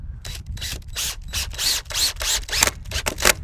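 Exterior screws about 3.5 to 4 inches long are driven into pre-drilled holes in a fence board, giving a series of short, close mechanical drill bursts in quick succession with brief pauses between them.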